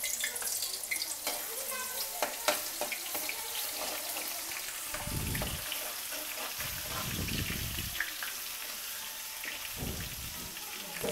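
Garlic frying in oil for a Sylheti snakehead fish curry, a soft continuous sizzle with intermittent bubbling and clinking of the pan, mixed with background room noise.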